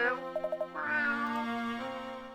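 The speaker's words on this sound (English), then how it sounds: "Meow." A game cat meows in Professor Layton and the Last Specter: a short run of quick chirpy mews, then one longer drawn-out meow, clear and close over a soft musical backdrop.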